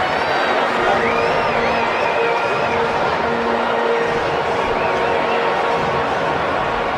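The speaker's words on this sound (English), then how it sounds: "Crowd exhorting Musgrove with an 0-2 pitch coming up." Baseball stadium crowd during a tense two-strike count, a continuous loud roar of many voices filling the whole stretch with no break, distant whistles and shouts rising out of it.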